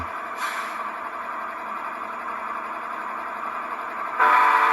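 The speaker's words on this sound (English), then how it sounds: "There's the GEVO horn." A GEVO locomotive horn from a Tsunami2 sound decoder in a Scale Trains ES44 GEVO model sounds as a sustained, steady, multi-tone blast, briefly shifting and growing louder near the end, with no voices.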